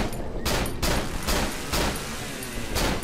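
Gunshots in the horror game Cry of Fear fired at a creature, five evenly spaced heavy blasts about half a second apart, each a loud broadband crack over a dense, noisy background.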